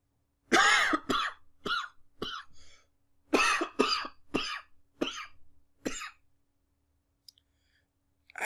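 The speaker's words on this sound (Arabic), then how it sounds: "انا بكح مش بعطس" A man with a heavy cold coughs repeatedly at close range, a series of harsh, barking coughs in uneven bursts with brief pauses between them.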